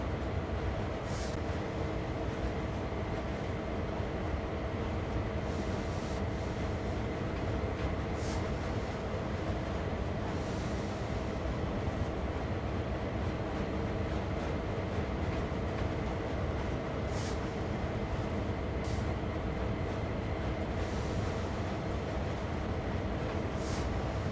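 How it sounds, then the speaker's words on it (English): AI-driven trains running on the Sand Patch Grade route in Train Sim World 2, a steady, moderately quiet rail rumble with faint wheel and track clatter that continues throughout, with no talking. "I really like the AI trains in the background doing things though on their own timetable."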